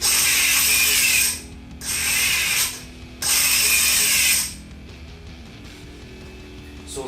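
A Clodbuster RC truck runs its drive motor and gears in reverse in three loud whirring, ratcheting bursts. Each lasts about a second, separated by short pauses, close by and with no talk.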